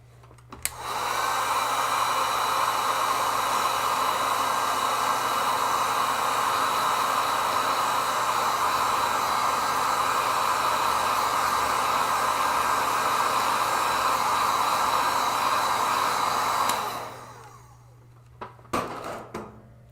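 A hair dryer blows on wet gouache paint, a loud steady whirring roar running for about sixteen seconds before switching off, followed by a few faint clicks.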